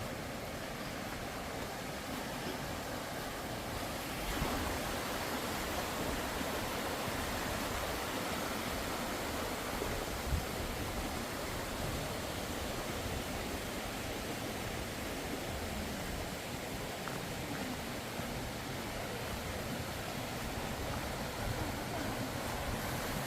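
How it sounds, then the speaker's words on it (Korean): Clear mountain stream flowing through the wooded Seonam-sa temple valley near Suncheon, a steady soft hiss of running water that stays even and unbroken throughout, with no talk over it. "왼쪽으로는 아주 맑은 물이 졸졸졸졸 흐르고 있습니다"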